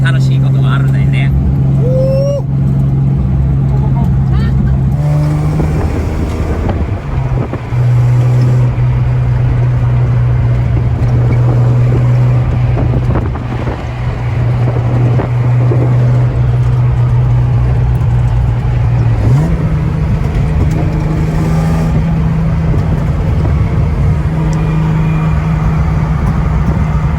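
A lowered Nissan Fairlady Z S30 on racing tyres drives along with a steady, loud engine drone and road noise, while people talk inside the car throughout.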